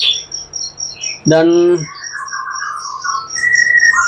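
White-rumped shama (murai batu) sings a series of clear, high chirps and whistled phrases close by, with a brief spoken word cutting in partway through.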